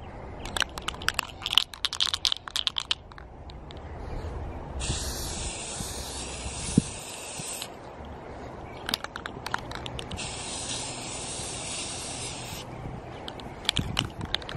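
Two bursts of spray paint hiss, each a few seconds long, lay a light first coat on the windshield wiper arms of a Miata. Between the bursts come small handling clicks, and no one speaks.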